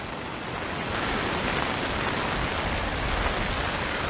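Rain falls on the Richard Haynes Boardwalk in Barbados, a loud, close, steady patter that swells slightly after the first second and then holds even throughout.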